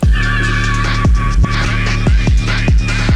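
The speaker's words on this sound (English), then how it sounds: "Go to your gross beat on the master and you select basic 8 and you make an automation" A phonk beat with a Gross Beat basic 8 stutter automation on the master, its dense low bass and drums repeatedly chopped and pitch-dipping in a rhythmic gated pattern, loud and continuous with no voice.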